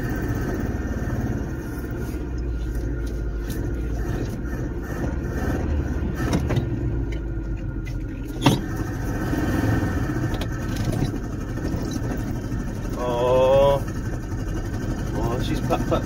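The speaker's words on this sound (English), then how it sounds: "I'm having to give her full throttle, full RPM. She's not very powerful with four cylinders." A 1976 Chevy LUV 4x4 with a four-cylinder engine is held at full throttle, giving a steady droning engine note throughout, with a few knocks and a brief whine partway through.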